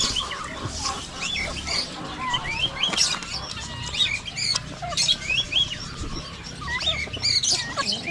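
Chickens cluck and squawk at a farmyard with livestock nearby, a steady busy chorus of overlapping calls at close to moderate distance, with no talking.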